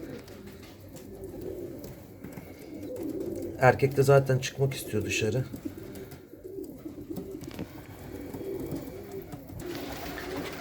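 A male and female pigeon pair in a backyard coop give a short burst of cooing midway, while a person talks nearby over a soft outdoor background.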